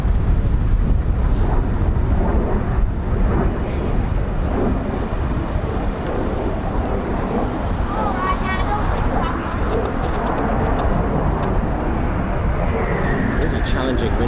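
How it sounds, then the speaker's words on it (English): Strong gusty wind buffets the microphone at an RAF airfield where Eurofighter Typhoon FGR4 jets train, a loud, continuous low roar that swells and eases, with a faint rising aircraft whine and a voice talking underneath. "Challenging winds up here."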